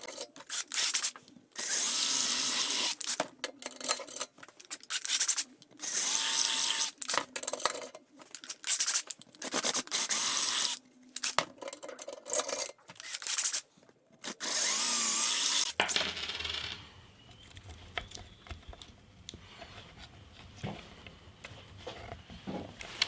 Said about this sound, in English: let's have a go at drilling it out